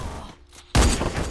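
Gunfire from the Free Fire mobile battle game: a sudden loud burst of shots erupts after a quieter stretch and sustains to the end.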